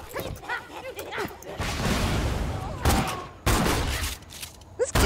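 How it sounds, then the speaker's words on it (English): A grenade goes off in the shooter game Borderlands 2 with a dense burst of loud blasts and crackling gunfire. A second sharp blast follows, set among other game noises and brief voices. "This grenade is intense."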